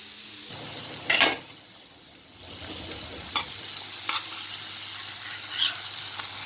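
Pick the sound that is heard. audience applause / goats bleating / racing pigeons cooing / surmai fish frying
surmai fish frying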